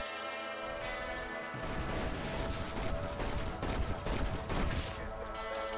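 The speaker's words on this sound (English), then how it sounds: "you only have to press R2, RT, or ZR once to fire all of the shots you've" Rapid volley of revolver gunshots fired in a Red Dead Redemption duel, a dense crackling burst of overlapping shots over game music, loud and close, with no talking.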